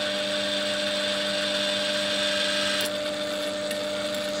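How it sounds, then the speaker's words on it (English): A continuous whining power drill runs at steady speed, drilling into pallet wood, shifting slightly in tone near the end, with no voices. "So drilling down them with the tool."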